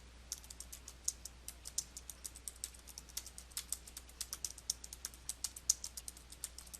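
Keys on a computer keyboard being typed in a quick, irregular stream of crisp clicks, close and fairly quiet, with no voices.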